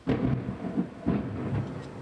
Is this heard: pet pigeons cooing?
no